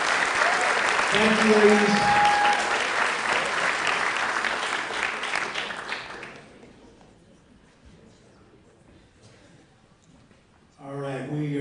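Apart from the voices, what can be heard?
audience applause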